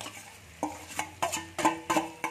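Potatoes being stirred into a cooked spice masala in a pan, with about six distinct scraping, clattering strokes of a spoon against the metal over a low sizzle, close up and without speech.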